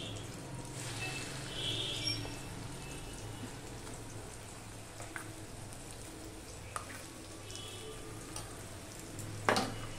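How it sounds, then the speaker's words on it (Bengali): Potatoes frying with poppy seed paste in a pan, a low, steady sizzle with occasional soft stirring scrapes and one sharper clatter near the end, faint and continuous throughout. "এবার আলুটার সাথে পোস্তটাকে ভালো করে ভেজে নেবে"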